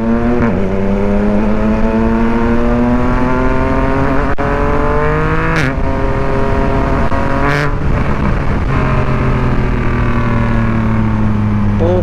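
A Yamaha MT-09 motorcycle engine revs up loudly while riding, its rising howl climbing through the gears with brief drops at each shift, close and continuous.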